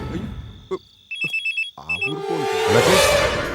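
A telephone in a Tamil action film rings in a quick run of short, bright electronic pulses, then a voice speaks over a swelling background.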